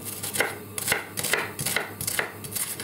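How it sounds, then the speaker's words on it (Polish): Half a large onion is chopped into thick cubes on a board, five or six crisp knife strikes in a loose steady rhythm, close and clear with no voices. "To jest pół dużej cebuli. Będziemy kroić w kostkę."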